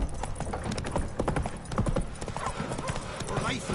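Roach, Geralt's horse in The Witcher 3 video game, gallops with a rapid, steady clip-clop of hooves, while a voice talks over the pounding rhythm.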